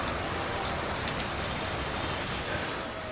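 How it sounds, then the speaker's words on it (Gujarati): Heavy rain pours down after a windy spell, a dense, continuous hiss of drops striking surfaces close by, loud and unbroken throughout with no voices. "વરસાદ ગાઈસ ચાલુ થઈ ગયો છે"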